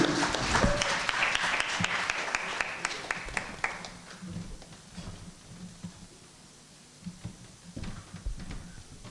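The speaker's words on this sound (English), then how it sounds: "Let's give a round of applause for Mary" Audience applause greets a performer named Mary at a foundation media launch, a dense burst of clapping in the opening seconds that thins and fades, leaving scattered claps and faint room sound.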